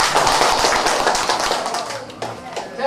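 Crowd of wedding guests clapping for the bride and groom, a burst of close, brisk applause with scattered hand claps that thins toward the end.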